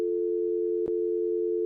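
A steady telephone dial tone hums continuously after a handset is hung up, interrupted by a brief click near the middle.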